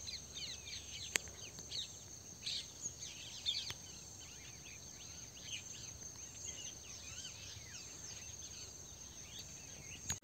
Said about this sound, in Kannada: ಹಕ್ಕಿಗಳ ಚಿಲಿಪಿಲಿ